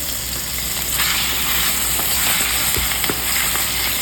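Chicken thighs frying skin side down in a pan with only a little olive oil, giving a loud, dense, continuous sizzle and crackle at close range, without talk.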